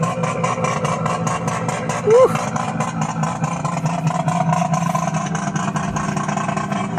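A Mazda RX7 FD rotary engine runs at a steady, buzzy idle on its first start-up with light revs, loud and close, while a person cheers briefly.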